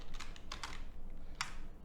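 Keys tapped on a computer keyboard while typing text, a handful of quick, faint clicks in small irregular bursts over a quiet room hum.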